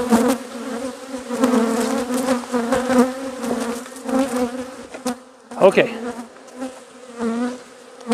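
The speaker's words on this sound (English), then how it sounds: "Put the lid back on so the hive can calm down a little bit." Honeybees drone loudly in an opened beehive during a varroa mite check, a dense, continuous close buzz rising and falling, with one brief spoken word.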